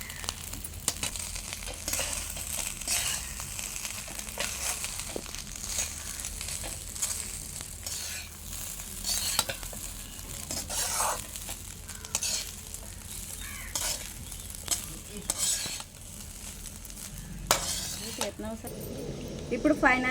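Chicken fried rice is stirred and tossed in a hot pan, with repeated scraping strokes of the utensil over a steady sizzle and a voice speaking at times.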